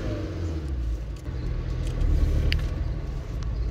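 Car engine during a test drive in Italy, a small car of at most 55 kilowatts, giving a steady low rumble that swells slightly midway, close and continuous with no talk.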